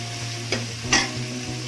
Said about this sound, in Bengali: এবার ভেজে রাখা চিংড়ি মাছগুলো দিয়ে একটু কষিয়ে নেব